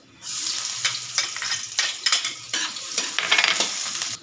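Garlic sizzles and sautés in hot oil in a pan, with a utensil stirring and scraping in repeated bursts; close, bright frying with no talk.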